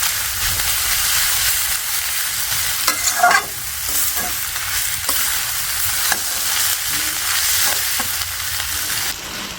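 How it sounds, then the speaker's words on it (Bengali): Meat being stir-fried (kosha) in a pan in a village kitchen, a loud continuous sizzle and hiss with occasional scraping stirs and clanks, steady throughout with no talking. "মাংসগুলো কষে দিতে খুব ভালো করে।"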